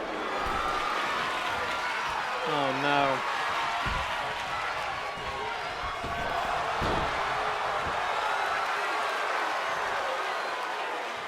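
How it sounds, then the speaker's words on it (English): A capacity wrestling crowd at a tag team championship main event roars and applauds around the ring, with thuds from the action and a commentator talking over the noise. "you can just hear this capacity crowd roaring for the AWL Tag Team Championship main event"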